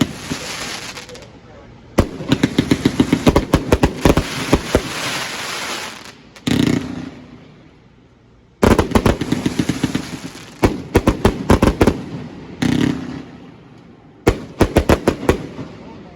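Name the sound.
four finger fireworks exploding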